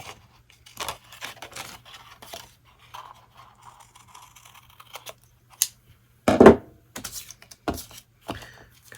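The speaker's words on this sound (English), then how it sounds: "I'm just going to use my scissors to cut those." Scissors cutting paper away from a drawing of a tulip bouquet, a few crisp snips and scraping cuts spread through an otherwise quiet stretch, close and moderately loud, with no talking.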